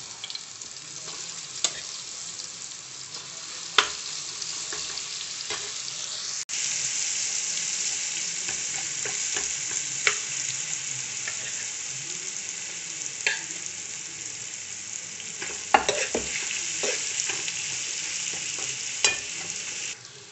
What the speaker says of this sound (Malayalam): എണ്ണ അടുപ്പത്ത് വെച്ച് ചൂടായിട്ട് കരിയാപ്പിലയാണ് ഇട്ടിട്ടുണ്ട്, അതിനകത്തേക്ക് നമുക്ക്